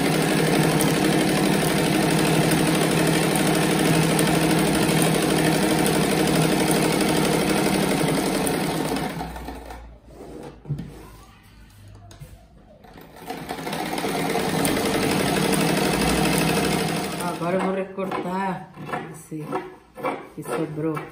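A sewing machine stitches a children's patchwork rug in long, loud, continuous runs, stops for a quiet handling pause, then restarts with shorter bursts.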